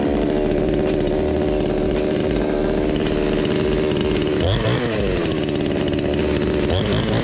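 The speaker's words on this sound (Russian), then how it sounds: "Это же бензопила." A petrol chainsaw runs loud and close for the whole stretch, its engine droning steadily before revving up and settling again partway through, with no talking.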